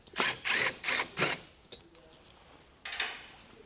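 A 7mm socket on a ratchet works bolts on a 2024 Chevrolet Trax, giving four quick close bursts of clicking, then a pause with faint taps and one more short clicking burst near the end.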